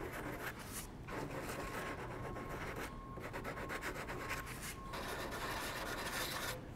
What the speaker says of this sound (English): I'm just going to do a nice little sanding on it